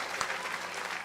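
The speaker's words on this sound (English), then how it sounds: "I think that probably deserves a round of applause" A short, dense burst of clapping, a round of applause for a contest winner during a livestream show, steady and fairly close throughout.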